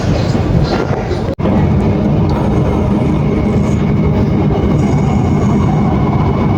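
A moving passenger train roars loudly and steadily from inside a carriage, a dense rumble with faint rail clatter throughout and a brief dropout partway through.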